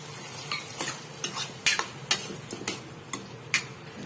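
Batata poha, soaked flattened rice with potato, sugar and lemon juice, is mixed in a pan with a spoon, giving a steady series of quick scraping and tapping strokes at close range, with no voices.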